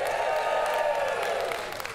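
A church congregation cheers for its Parker campus, a broad sustained roar of crowd noise with whoops and clapping that holds steady for two seconds before easing slightly at the end.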